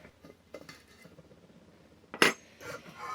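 The metal lid of a hand-punched candle holder is handled and lifted off, giving faint close taps and scrapes, then a single sharp metallic clank followed by a softer rattle.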